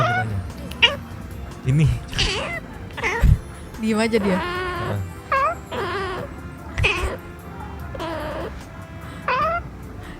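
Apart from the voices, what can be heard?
three cats meowing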